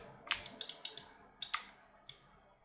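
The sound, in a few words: computer mouse clicking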